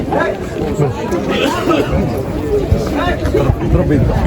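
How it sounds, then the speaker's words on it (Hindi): Tourists crowd the line at the Sphinx in Egypt, making a loud, continuous babble of many overlapping voices close around the listener. "भीड़ देखो आप यहाँ पे कितनी ज़्यादा लगी हुई है"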